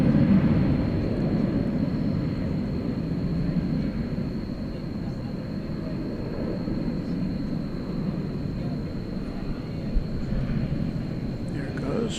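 An Iberia airliner departing DFW Airport toward Madrid gives a faint, distant, steady jet rumble against a night-time airfield background.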